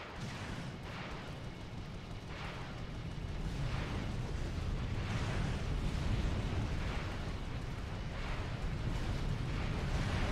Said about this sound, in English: You guys see where I shot those torpedoes and some of those lasers?